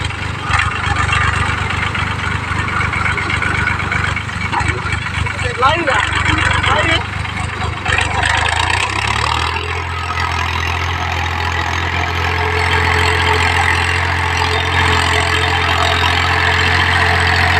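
A tractor engine idles steadily with a low, throbbing hum, joined for a while by scattered voices and clatter before settling into a constant drone.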